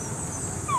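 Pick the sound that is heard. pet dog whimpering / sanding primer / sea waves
pet dog whimpering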